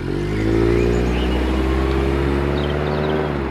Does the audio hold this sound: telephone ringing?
no